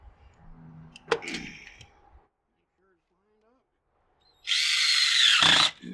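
Power drill driving screws into a C.R. Plastic Products upright Adirondack chair: a brief knock and speech-like sounds, then silence, then one loud, close whirring burst of about a second and a half.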